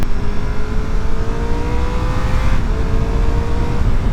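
A Triumph Tiger 1200 Rally Explorer motorcycle of about 150 horsepower accelerates hard on the road, its engine a loud, steady roar with rising tone, a brief surge near the middle, wind noise throughout.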